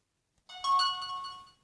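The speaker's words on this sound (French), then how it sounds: "Désolé, c'est mon portable." A mobile phone plays its ringtone during a Minecraft PE building session. A short bright melodic chime rings out alone, starts abruptly and fades after about a second.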